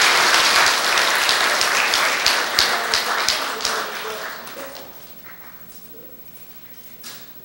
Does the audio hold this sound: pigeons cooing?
no